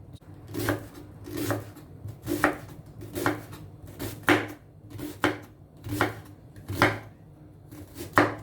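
Knife chopping red onions on a cutting board for a turkey, mango and avocado salad, with about ten steady, evenly spaced knocks close up and no talking.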